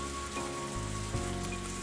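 Rain from a visual novel game falls in a steady, dense hiss with a continuous spattering texture, alone with no voices.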